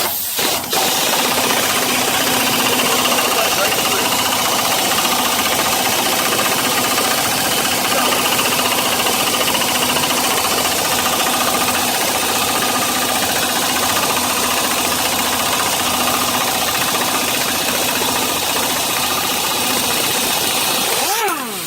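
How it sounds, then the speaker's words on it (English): A pneumatic air impact gun drives out an old wheel lug stud, a loud, continuous hammering rattle close up that runs without pause for about twenty seconds, with no talk over it. "Then you pull out your trusty impact gun, hook it up to air, and just get it."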